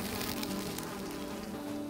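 Bees buzz steadily around a beehive in the survival game Valheim, a close, continuous drone with no talk.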